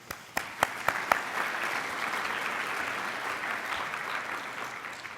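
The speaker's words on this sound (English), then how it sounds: "So I think we should give you all a big round of applause." A round of applause from an audience at an HIV/AIDS program update session, opening with a few sharp distinct claps and then settling into steady, moderately loud clapping that carries on alone.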